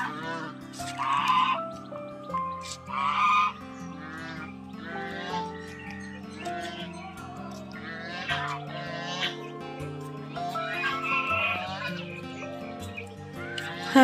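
Two ducks call anxiously for their duckling, a series of loud, close, nasal honking quacks repeating in uneven bursts over several seconds.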